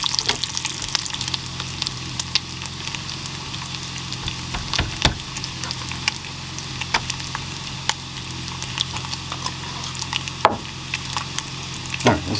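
Bacon sizzling and frying in a pan at a campsite cooking setup, a steady crackling hiss with scattered sharp pops running continuously and fairly close.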